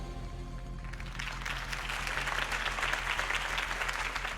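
Crowd applause in the video game Batman: The Telltale Series, a dense wash of clapping that swells in after a quiet start and holds steady over a low musical hum.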